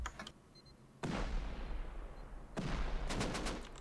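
An automated gun turret in Rust fires in two dense, loud bursts of rapid shots separated by a brief lull, with a few clicks and faint tones between them.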